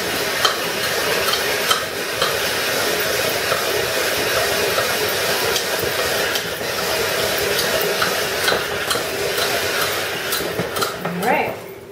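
A spiralizer cuts raw sweet potato into fine pasta strands, making a steady, close scratchy shredding and rasping sound that runs continuously with small clicks and knocks, and no one speaking.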